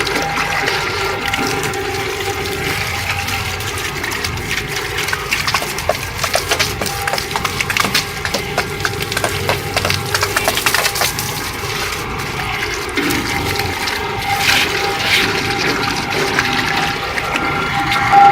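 Water trickling and splashing steadily from the outlet of a 12 V DC solar water pump running on low supply pressure, a continuous close flow that holds at an even level throughout with no talking.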